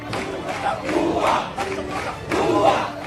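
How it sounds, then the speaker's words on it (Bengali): Protest supporters in a crowd chant political slogans in rhythmic, repeated bursts, many voices shouting together at moderate distance. "সমর্থকদের কণ্ঠে বারবার ফিরে আসে কিছু স্লোগান"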